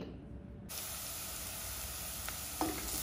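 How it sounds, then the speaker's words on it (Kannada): Finely chopped onions sizzle quietly in hot oil, a steady low hiss that starts after a brief pause, with a faint clink near the end. "ಸಣ್ಣಗಿಟ್ಟಿರೋಂಥ ಈರುಳ್ಳಿ ಚೆನ್ನಾಗಿ ಫ್ರೈ ಮಾಡ್ಕೊಳ್ಬೇಕು"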